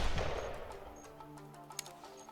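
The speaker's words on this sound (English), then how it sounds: "I will end this with the rifle." A single sharp rifle shot in theHunter Classic during a Rusa deer hunt, loud at the start and decaying into a ringing echo, followed by quiet outdoor ambience.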